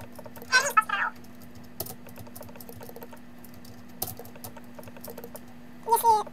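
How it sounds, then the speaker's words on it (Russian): Keys clatter on an old computer keyboard in sparse taps and short bursts, with a constant electrical hum underneath and brief voices at the start and end. "Если очень громко клавиатуру, извините, ребят."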